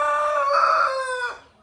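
A tiger rooster crows once, loud and close, in a long, sustained, harmonic-rich call that swells in the middle, then breaks off and fades.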